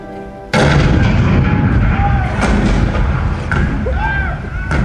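Cannon fire in the Hall of Presidents show re-enacting the 1861 Fort Sumter bombardment: a sudden loud boom opens a sustained, rumbling barrage of repeated blasts, with whistling tones and faint voices mixed into the dense roar.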